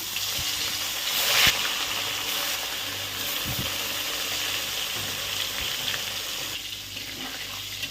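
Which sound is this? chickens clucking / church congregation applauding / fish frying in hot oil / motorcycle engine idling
fish frying in hot oil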